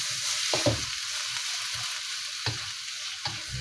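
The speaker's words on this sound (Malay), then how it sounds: "Kurangkan minyak goreng ikan tadi, kita tumis bahan kisar." Chilli and onion paste sizzles in leftover fish-frying oil, a steady crackling hiss with a few louder stirring scrapes and clanks; no voices.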